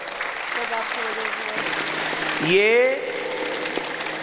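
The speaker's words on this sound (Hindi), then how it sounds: "इसके लिए एक बार जोरदार ताली बजाओ पहले तो।" A crowd at a yoga guru's camp breaks into a dense round of clapping that swells to a peak and then fades, and someone talks over it.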